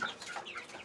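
Aseel chickens in a poultry enclosure cluck in a brief, busy burst of overlapping calls, close and moderately loud with no talk.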